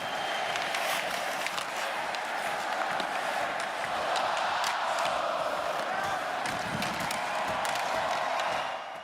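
A packed hockey arena crowd roars and sings together at an NHL playoff elimination game, a dense, continuous wall of cheering with scattered claps and shouts throughout.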